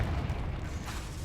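A Confringo fire spell blast in Hogwarts Legacy, a steady rumbling boom of continuous low, dense energy lasting just over a second with no clear break, under faint game ambience.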